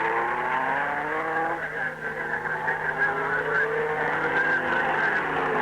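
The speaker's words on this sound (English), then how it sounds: "Brabham hurtles down the flying mile close to top speed" Jack Brabham's racing car howls down the flying mile at Longford in 1964 near top speed, a sustained engine drone with rising and falling pitch that stays loud throughout.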